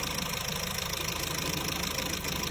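A used car's engine idles during a pre-purchase inspection, a steady continuous drone with a faint knocking roughness, close to the microphone and with no voices.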